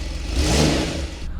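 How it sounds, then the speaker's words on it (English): A new hybrid Porsche 911 Turbo S engine fires up on a cold start in a car park, a quick rising whir into a steady rumbling idle, close and alone. "Let's do a cold start on this new engine."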